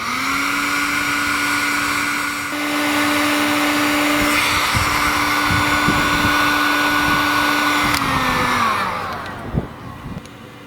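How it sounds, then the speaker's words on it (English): A heat gun shrinks heat shrink tubing onto a crimped battery cable lug, a loud close steady whooshing blower with a constant motor whine that winds down near the end, followed by a few handling clicks. "I'll use my heat gun because it's a lot safer around equipment"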